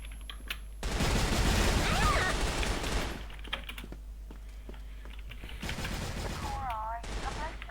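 Video game gunfire crackles in quick automatic bursts against rapid keyboard clatter, with a player's voice chattering excitedly between volleys.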